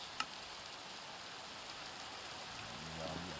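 Steady soft rain hisses at night in a Minecraft modpack, a faint even wash of noise throughout with a brief click near the start and a low tonal hum entering toward the end.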